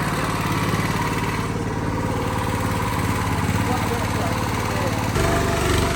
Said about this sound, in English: we've got a 9 horsepower engine on this bad boy.